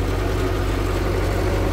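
Farm tractor engine pulling a heavy trailer loaded with about eight tons of hay across a meadow, a steady low throbbing drone, close and continuous under strain.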